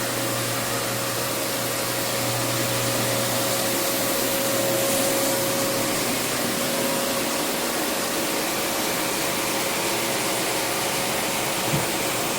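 Floor buffer screening a hardwood floor ahead of a recoat, running as a steady, loud, continuous whine and hiss with an even drone throughout and no voices.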